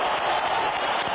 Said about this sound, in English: Both for the fighters deserve a hand of applause